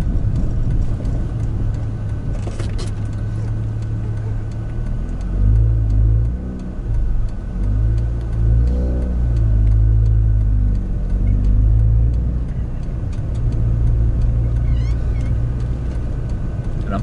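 A car engine rumbles and revs at a Sepang circuit trackday, with steady low droning tones that rise and fall in pitch, close and loud with no speech over it.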